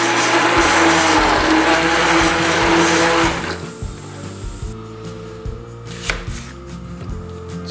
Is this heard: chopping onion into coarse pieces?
yes